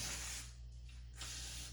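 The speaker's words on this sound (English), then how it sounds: "go ahead and spray it again." A steady broadband spray of cleaner hisses close by inside a Thermos inverted lantern being cleaned, easing off briefly in the middle before a second strong burst resumes.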